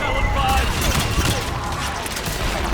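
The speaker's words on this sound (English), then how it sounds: "Firing another salvo." A missile salvo launching in the sci-fi game Mass Effect 3 Legendary Edition, a loud rolling burst of rapid blasts and booms, with a voice talking over it.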